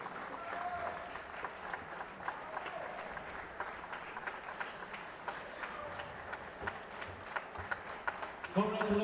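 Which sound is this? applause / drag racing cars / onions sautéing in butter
applause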